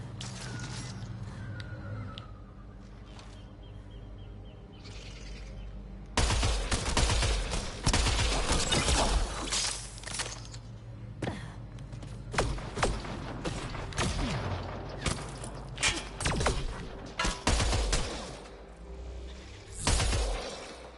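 Bursts of gunfire from the video game Mass Effect Andromeda, loud, rapid and sustained, with sharp volleys and mechanical clatter. A quieter stretch opens the clip, followed by dense automatic fire to the end, and no one speaks.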